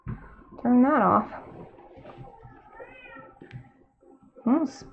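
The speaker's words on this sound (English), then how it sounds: "That's my cat Kiba meowing right now." Domestic house cat meowing in a home, two clear loud meows about four seconds apart with quieter household sounds between them.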